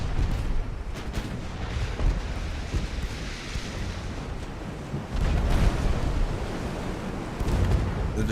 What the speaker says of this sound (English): Holy crap, all of her turrets are popping off.